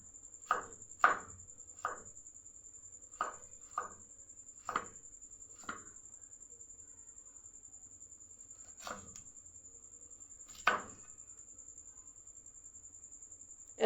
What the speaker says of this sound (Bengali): এরকম চপড করে আদাটাকেও কেটে নেব।